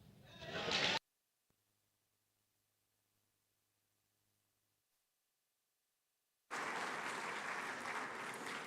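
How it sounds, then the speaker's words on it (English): An audience at a formal conference gathering breaks into applause: a brief burst of clapping, then near silence, then loud, sustained clapping resuming toward the end. "a resounding round of applause to celebrate such a gallant expression of joy"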